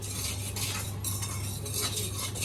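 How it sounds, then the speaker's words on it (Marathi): Poppy seeds dry-roast in a pan over a low flame, a spoon stirring and scraping them in a continuous soft rustling, close and steady with light clinks against the metal. "खसखस भाजून घेते बारीक गॅसवरच."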